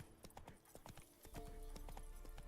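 Hooves of a horse in The Witcher 3 clip-clop in quick, distinct beats, close and clear, over a low ambient hum that grows louder midway; no one speaks.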